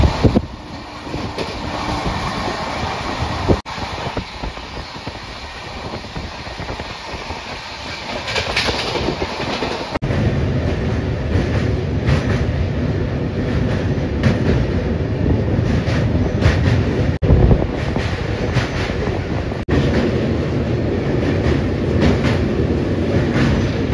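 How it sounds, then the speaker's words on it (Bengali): Barbil Jan Shatabdi Express 12021 running just after leaving Howrah in heavy rain, a steady loud rumble of wheels and carriage noise with clickety-clack, growing heavier partway through and continuing without speech. "হাওড়া স্টেশন থেকে ট্রেন ছাড়া মাত্রই কিন্তু জোরে বৃষ্টি শুরু হয়ে গিয়েছে"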